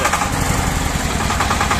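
A single-cylinder 24-horsepower mini tractor engine runs close up, giving a loud, steady, throbbing chug that continues without a break and with no voices over it.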